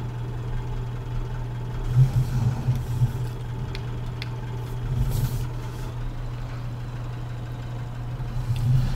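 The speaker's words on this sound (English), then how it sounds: "I'm hoping this tractor can pick the plough up." A tractor engine idles steadily at a low, even drone throughout in Farming Simulator 19 on a farm map, with a few faint clicks and small surges, no talk.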